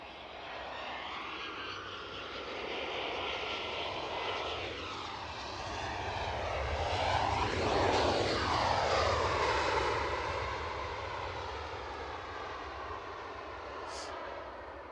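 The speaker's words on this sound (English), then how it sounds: "wee Cessna citations coming up" Small Cessna Citation business jets near Edinburgh Airport, a broad jet roar that swells gradually toward a loud peak midway, then slowly fades, heard from a moderate distance outdoors with no voices.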